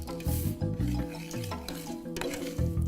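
A spoon stirs sugar into quick cooking oats in a pot, scraping and rubbing in steady strokes, close and fairly loud, with no talking.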